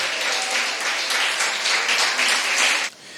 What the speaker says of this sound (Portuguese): Agora aplauda ele, que é digno de honra e digno de glória.